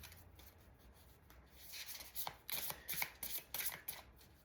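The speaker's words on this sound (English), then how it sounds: "let's pull some of the Mystic Martian cards" Mystic Martian oracle cards drawn and handled from a deck, a soft papery rustle building into several close, crisp shuffling and sliding bursts in an uneven rhythm.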